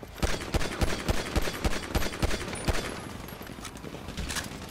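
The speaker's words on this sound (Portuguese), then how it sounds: "o Monk tá atirando no killer" Rapid gunfire in GTA V during a rooftop deathmatch, a steady burst of evenly spaced loud shots for about three seconds, then sparser, more distant shots, with no one talking.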